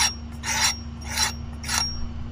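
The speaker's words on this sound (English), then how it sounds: "I will go get my diamond sharpener from inside" A Work Sharp diamond sharpener rasps along a Cold Steel Trail Boss blade in four evenly spaced strokes, each a short, bright scraping burst over a low steady hum.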